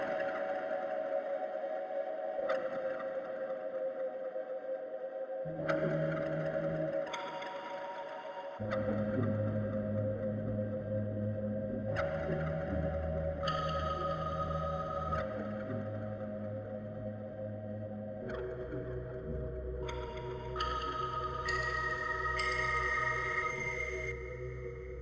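Sustained synthesizer pad chords, run through an EQ and a shimmer reverb, shift slowly, each change blooming into a bright, shimmering reverb tail with high octave overtones. No voices.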